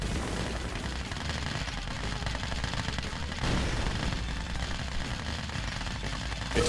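Soldiers fire a continuous, dense rattle of gunfire at a crippled tank in Command & Conquer: Red Alert 2, steady and fairly loud throughout with no talking.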